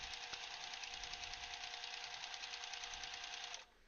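A sewing machine runs steadily as it stitches over pins, a continuous close mechanical whir with a fast rhythmic needle chatter that stops abruptly near the end.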